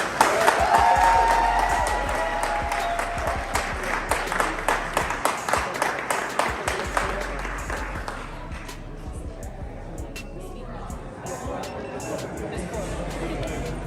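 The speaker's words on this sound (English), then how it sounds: "please join me in clapping it up for Mr. Martin Luther King III" An evening industry mixer crowd claps to welcome Martin Luther King III, a burst of dense applause mixed with chatter that gradually thins into scattered claps and crowd murmur before fading.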